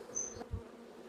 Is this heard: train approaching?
no